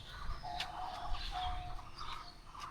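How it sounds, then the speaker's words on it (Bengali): Chinese doves in a zoo cage give soft, repeated calls and chirps through steady background noise, with a few brief tonal notes rising above the ambient hum. "এই দেখেন চায়না ঘুঘু এগুলা"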